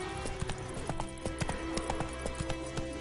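Roach the horse from The Witcher 3: Wild Hunt gallops in a steady, rapid clip-clop of hooves, close and continuous, with a faint game soundscape underneath.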